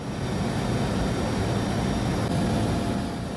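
Steady, loud engine and rotor drone from an Indonesian Air Force (TNI AU) military helicopter flying over landslide and flood damage near Sibolga, a continuous broadband roar with no talk.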